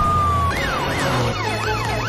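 An ambulance siren wails in loud, repeating rising and falling sweeps over a steady low engine hum, close and continuous.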